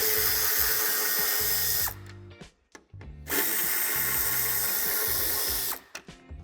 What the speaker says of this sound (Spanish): Quitaremos los dos tornillos de Tor de 20.